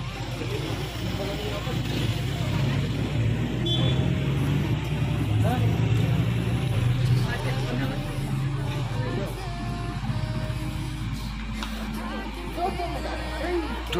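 A Prima Donna double-deck Mercedes-Benz night bus drives along, its steady engine and road rumble continuous and fairly loud throughout, with voices talking over it.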